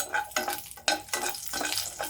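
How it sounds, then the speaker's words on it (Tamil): Spices, cloves and green chilli being sautéed in a pan, with a bright oily sizzle broken up by repeated scraping stirs at a steady rhythm, heard up close and with no talking. "இது கொஞ்சம் நல்லா வதங்கட்டும்"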